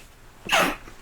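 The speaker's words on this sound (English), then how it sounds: "I'm going to sneeze." One short, sharp human sneeze, a single loud breathy burst that ends quickly against a quiet room.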